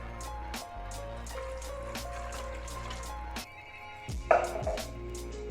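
Water poured into a pot for mutton curry (aloo gosht) with salt and turmeric, a steady trickling pour over a low background hum, ending with a brief clatter.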